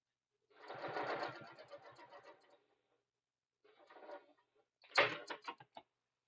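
A sewing machine stitches a tote bag seam with a quarter-inch seam allowance, reversing at the start: short bursts of rapid mechanical chattering separated by pauses, close and clear.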